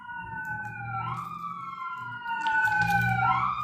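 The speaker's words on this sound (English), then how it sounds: "Ooh, that's some sirens." Emergency vehicle sirens wail in sliding, overlapping tones, growing slightly louder toward the end, over a low rumbling background with no talk.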